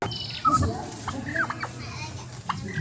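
A turkey gobbles several times in quick warbling bursts, fairly close, over a low background hum with faint chirps, at a deer park in Sibreh, Aceh Besar.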